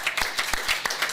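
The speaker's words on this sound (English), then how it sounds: "Give me a round of applause." Scattered clapping from a small audience at a city council meeting, a few distinct claps close by over about a second.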